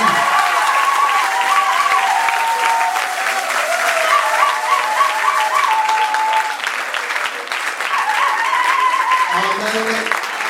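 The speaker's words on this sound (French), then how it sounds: "Je veux que quelqu'un acclame Jésus" A congregation at a French-language church service applauds with loud, sustained clapping that fills the room, while a voice speaks over it throughout.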